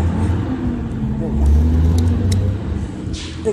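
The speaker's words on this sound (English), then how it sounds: "Big truck behind me." A big truck drives past outdoors, a low rumbling engine that swells and fades over a few seconds, heard beside ongoing dirt bike carburetor work with someone talking nearby.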